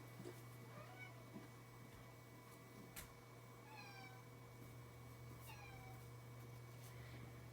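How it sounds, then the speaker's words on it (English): A cat meows several times, short rising and falling calls spaced a couple of seconds apart, faint against a quiet indoor hum. "My cameraman's cat is bothering me."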